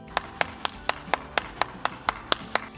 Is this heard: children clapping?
yes